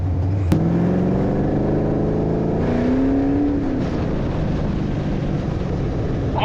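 An LS-engined sandrail on a dyno revs at quarter throttle, a loud continuous engine drone with pitch rising and falling, close and steady throughout.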